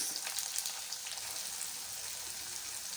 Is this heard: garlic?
yes